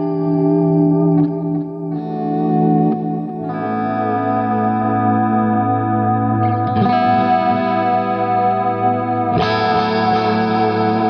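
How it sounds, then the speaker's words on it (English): Electric guitar run through effects pedals, with reverb, delays and a subtle wobbly chorus, playing sustained chords that shift and swell, loud and alone with no talk. "a kind of a reverb type sound using some delays and a wobbly but not overly done"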